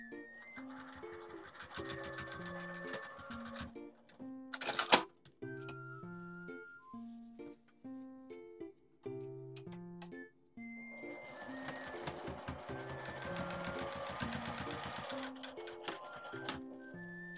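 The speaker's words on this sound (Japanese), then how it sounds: "今回はミシンで縫っていますが" Sewing machine stitching a neck cooler made from a Seria lunch cloth, with bursts of rapid mechanical ticking and whirring that stop and restart, one sharp clack partway through, and no voices.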